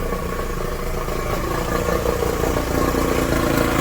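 Outboard engine on a houseboat under restoration running steadily, with a new water pump impeller but not discharging water, a loud close mechanical rumble and clatter that holds throughout and builds slightly toward the end.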